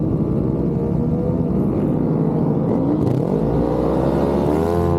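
Supertwins racing motorcycles launch at a race start at Hallett, engines rising in a loud, climbing whine as several bikes accelerate together, close and continuous with pitch sweeping upward near the end.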